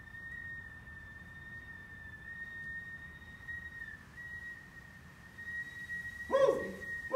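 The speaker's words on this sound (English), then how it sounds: "Right now, the teapot's whistling." A teapot whistles steadily as water boils, a thin sustained high tone with a faint upper overtone holding for several seconds over quiet room noise, followed by a brief louder burst near the end.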